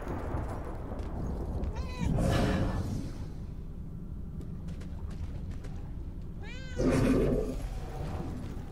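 A cat in the video game Murdered: Soul Suspect meows twice, a few seconds apart, moderately loud over a low ambient game background.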